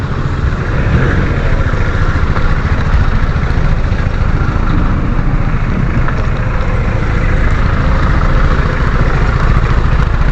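Loud, steady rumble of a motorcycle engine idling close by, unchanging throughout.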